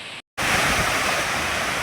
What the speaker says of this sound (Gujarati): જો બાવણાની ઉપરથી પાણી જાય છે, જોઈ શકો છો